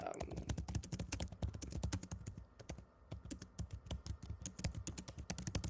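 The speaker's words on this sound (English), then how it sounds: "I can't wait to see what you're typing." Quick, steady clatter of keys on a computer keyboard, close and crisp with short pauses between bursts, and faint voices murmuring underneath.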